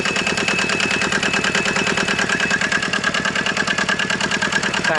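A small diesel engine runs in a Citroen GS converted to a van, with belts driving a variomatic automatic transmission, a fan and a little radiator nearby; a steady, close, rapid knocking idle continues evenly throughout with no talk.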